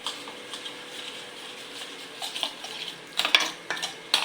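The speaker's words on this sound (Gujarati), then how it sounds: "તો આ બેટર બનાવે છે મમ્મી." Batter for bread rolls whisked in a kitchen bowl, soft wet stirring and light clinks of a spoon against the dish, growing louder and choppier toward the end.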